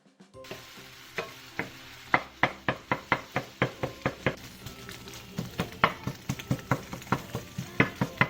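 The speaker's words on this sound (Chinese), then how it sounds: "锅热的时候放入鸡蛋，用铲子把鸡蛋铲碎。" Eggs sizzle in a hot wok while a spatula breaks them up for dumpling filling, the metal scraping and knocking against the pan in quick, steady strokes close up over a soft frying hiss.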